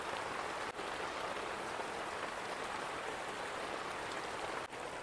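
Steady rain falls outside in a dense, even hiss of drops on surfaces, continuous and moderately loud with no voices.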